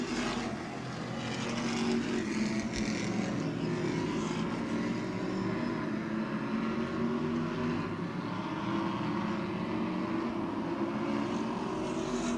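Race cars lapping Twin State Speedway in Claremont, New Hampshire, with engines held wide open down the back straightaway and through turns 3 and 4, a continuous roaring drone from a distance that swells slightly as the pack passes.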